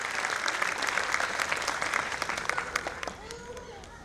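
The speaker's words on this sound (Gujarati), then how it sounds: "એક વખત જોરદાર તાળીઓ વગાડી આ નિર્ણય માટે" Members at a credit cooperative society's annual general meeting give loud, steady applause that thins out toward the end, and a voice then starts speaking.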